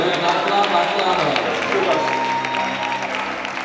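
A church congregation applauds and cheers in a dense, steady wash of clapping at a praise-filled anniversary celebration, loud and sustained with crowd voices mixed in.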